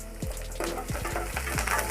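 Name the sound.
mustard seeds spluttering in hot oil for tempering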